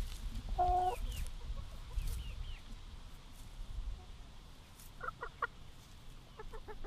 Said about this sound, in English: We have six chooks, as you can see, four little hens, and then we've got two little roosters